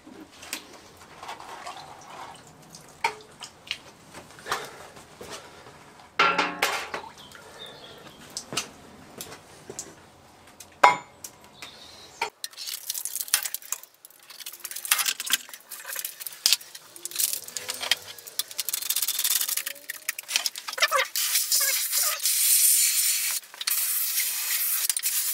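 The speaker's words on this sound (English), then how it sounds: "quickly put it in the bucket of water" Hot CPM 154 stainless steel knife blade plunged into a bucket of water: scattered clinks and rustles give way to a sustained bright hissing sizzle that builds and holds, close and fairly loud, with no talk.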